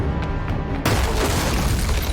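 Dynamite explodes in the 2022 action film Hunt: a sudden, loud, broadband boom that then rumbles on as a dense, roaring wash of noise.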